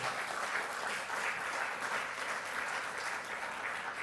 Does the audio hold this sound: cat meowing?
no